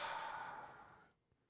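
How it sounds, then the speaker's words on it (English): Slow, steady exhalation through an open mouth onto the back of a hand an inch or two away, a soft breathy rush lasting about a second before fading to quiet. "Open your mouth and slowly breathe out."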